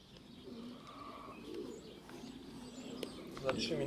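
Racing pigeons coo softly on arrival at the loft during a race, with faint chirps and a muffled background murmur, all quiet and slightly distant.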